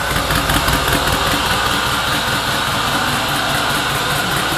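A truck engine being revved up and down, a loud close continuous rumbling drone with a busy rattling texture throughout, heard alone without talking.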